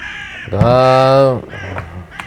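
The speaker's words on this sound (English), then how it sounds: "Oh, yup, crows" A single loud, drawn-out crow's caw sounds close by in a forest, with a few quieter calls before and after.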